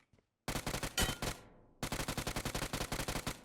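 Automatic rifle fire in the mobile battle royale PUBG Mobile, loud and close: a dense burst of rapid shots that cuts off, then a second long steady string of evenly spaced rounds.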